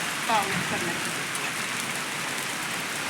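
The first rain of the season falls on a village in Maharashtra, a steady close hiss of drops pattering on surfaces, with a brief voice near the start.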